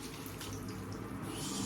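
Water poured into a cooking pan of sardines to make broth: a steady, close splashing pour that runs unbroken the whole moment, with no talking.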